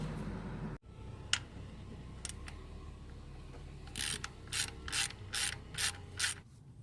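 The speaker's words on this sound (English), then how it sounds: "Now go ahead and just get your 10mm socket and remove the sensor out of the way." A 10mm socket on a ratchet removes the camshaft position sensor on a Scion tC, giving close, crisp bursts of pawl clicking that turn into a quick run of about six evenly spaced ratchet strokes near the end.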